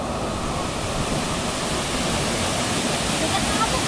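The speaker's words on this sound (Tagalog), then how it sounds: "Talon!" A mountain waterfall roars with steady, dense rushing water, loud and constant throughout without any break.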